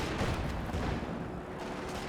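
A Bishop self-propelled artillery barrage in Company of Heroes 2, a dense, rumbling wash of booms and impacts that runs without a break for two seconds.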